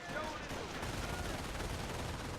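.30 cal machine gun in the video game Company of Heroes, dense continuous rattling bursts amid battlefield noise, loud and sustained throughout with voices mixed in.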